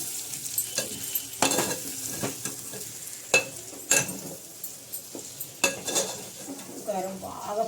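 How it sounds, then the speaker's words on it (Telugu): A spicy chili mixture is stirred in a pan to keep it from sticking, with repeated scraping and clinking of a spoon against the metal over a light sizzle, close and uneven in rhythm. "అడుగు పట్టకుండా జాగ్రత్తగా అయితే కలిపేస్తున్నాను"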